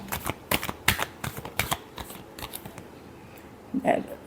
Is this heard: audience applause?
no